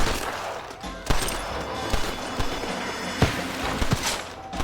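Gunfire in a Red Dead Redemption shootout, sharp irregular shots cracking out at varying distances, some loud and close, over a continuous background din with faint hoofbeats.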